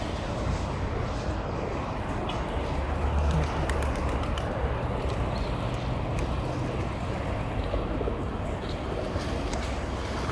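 Domestic pigeons cooing in a low, repeated murmur amid a steady, slightly rumbling background, the calls layered closely over one another with no clear speech.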